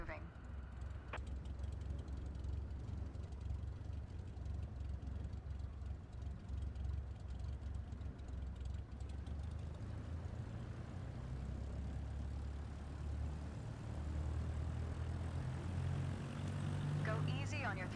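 Propeller aircraft engine in Microsoft Flight Simulator 2024 throttling up to taxi, a steady low rumbling drone that swells slightly toward the end, with a voice talking over it throughout.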